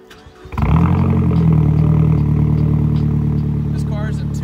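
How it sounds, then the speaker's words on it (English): A turbocharged Mazdaspeed3 with a catback exhaust fires up on a warm start, the cranking catching into a loud, close idle with a steady low burble and rumble that holds to the end. "I'll do a little bit of a warm start for you"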